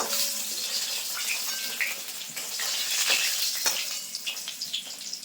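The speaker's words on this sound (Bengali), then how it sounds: "বাকি যে মাছগুলো আছে একইভাবে কিন্তু আমি ভেজে নেবো" Pieces of pangas fish frying in hot oil in a pan, a continuous close hiss and sizzle with a few faint clinks and stirring noises and no talking.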